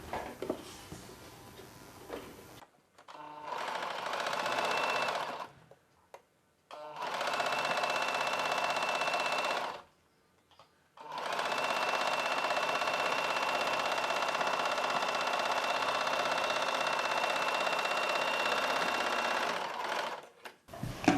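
A sewing machine runs in several long, fast bursts of rattling stitches on a blouse lining hem, separated by brief pauses, close and continuous with no talking.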